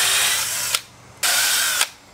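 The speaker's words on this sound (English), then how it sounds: "we're going to go ahead and counterbore for the heads of the screws" A drill counterbores screw-head holes in a metal boat trailer frame, running in two loud sustained bursts separated by a short pause, each ending with a sharp catch as the bit stops.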